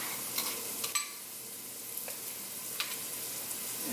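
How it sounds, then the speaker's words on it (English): Kedgeree ingredients stirred in a pot, with soft scraping and a few sharp clinks of a utensil against the metal over a quiet background. "Stir that up a little bit."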